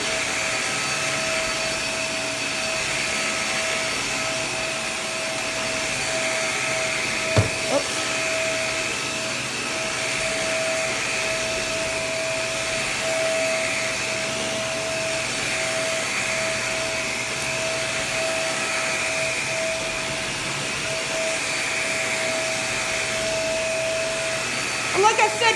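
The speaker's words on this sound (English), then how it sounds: "you can turn the brush roll off, green light goes off, and then you just vacuum on hard floor normally" Shark Navigator upright vacuum cleaner running steadily on hard floor, a constant close motor whine and airflow hum throughout, with faint knocks near the start and end.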